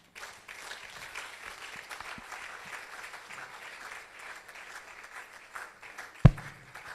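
A church congregation applauds after a sermon, a steady soft patter of many hands clapping at a distance, with a single sharp knock near the end.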